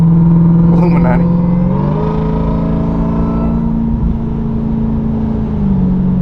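Aggressive exhaust note of a 2023 Dodge Durango Hellcat with its muffler deleted, a loud, steady deep drone with a brief rev swell near the start, recorded close by.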